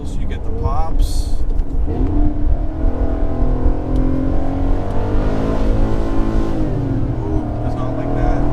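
Chevrolet Camaro engine revving hard and close, with a steady rising and falling drone and sharp exhaust crackles and pops over it.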